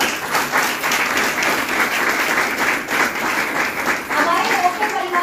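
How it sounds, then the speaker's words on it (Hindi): An audience at an Indian community or business gathering breaks into sustained applause, dense clapping from many hands filling the room steadily for several seconds, with faint voices mixed in. "एक बार शानदार ताली इन सब लोगों को"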